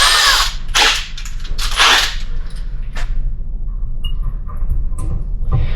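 Power drill boring out spot welds on sheet metal at home, with loud, harsh bursts of grinding bit noise cutting in and out, several sharp drilling spells separated by brief pauses, close and alone.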